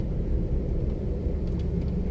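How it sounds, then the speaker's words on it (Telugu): A bus rumbles close by, its engine giving a steady, heavy low drone with no pauses across the short stretch. "బస్సే వచ్చింది"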